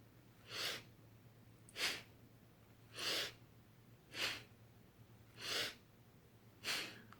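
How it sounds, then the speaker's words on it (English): Rhythmic breathing exercise at about one breath per second, six sharp, forceful breaths in an even pulse, close and clear against a quiet background. "we're breathing at about 1 breath per second"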